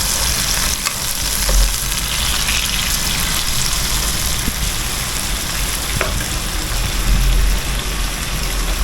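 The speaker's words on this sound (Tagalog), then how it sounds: "Kaya ginigisa niya ng maayos." Adobo ingredients sauté in a hot pan, a steady close-up crackling sizzle that runs without a break from start to finish, with a few louder pops and stir scrapes along the way.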